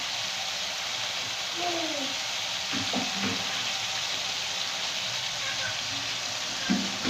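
Whole spices such as green cardamom and cumin sizzle in hot oil in a pan while lobia curry is being made, giving a steady, close, fairly loud hiss throughout, with a few brief faint voice-like sounds and a small clink near the end.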